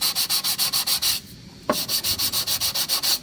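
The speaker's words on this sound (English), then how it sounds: "this is how I would put a new surface on a brake pad" A brake pad from a front disc brake job is resurfaced by hand sanding. About a dozen and a half quick, even rasping strokes are heard close up, with a brief pause near the middle and no talking.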